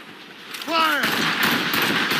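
Ship cannons firing in the video game Assassin's Creed Rogue: a shouted command followed by a loud, rumbling broadside blast that swells and lingers with booming echoes.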